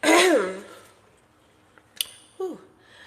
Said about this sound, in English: While I was coughing up half of my lung